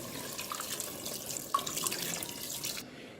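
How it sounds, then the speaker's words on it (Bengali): Water poured from a bowl into a pan of cooking potatoes for a vegetarian curry, a faint, close trickle and splash lasting a few seconds with no talk. "এবারে এর মধ্যে আমি জল দিয়ে দেবো"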